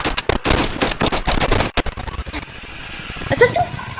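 Roblox game gunfire rattles in rapid automatic bursts, loud and close, then tails off into quieter background game sounds.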